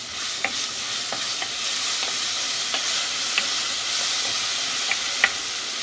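Garlic and onion frying with dried salted beef in a new pan, a steady loud sizzle and hiss throughout with occasional faint scraping stirs, close up and without talk.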